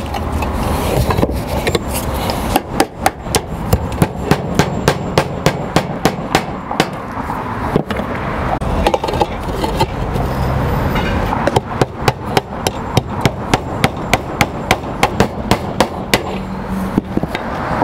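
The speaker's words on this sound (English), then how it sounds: "make sure you're nailing outside of that" A hammer drives nails into flat roof tiles beside a skylight flashing tile pan, giving close, sharp, rapid strikes in quick bursts with short pauses between them.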